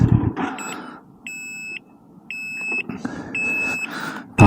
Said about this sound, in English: Park brake on. That's what the beeping is.